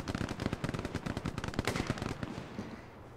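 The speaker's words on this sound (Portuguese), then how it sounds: "tem muito tiro" Gunfire in the World War II video game Hell Let Loose rattles in rapid overlapping bursts, machine-gun volleys and sharp cracks stacking densely before thinning out toward the end, moderately loud with no speech.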